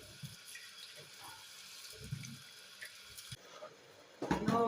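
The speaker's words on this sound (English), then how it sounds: "So I'm going to wash the chicken." Raw chicken being washed under a running hot-water tap in a sink, with a steady stream and soft splashing that grows louder and fuller at the end.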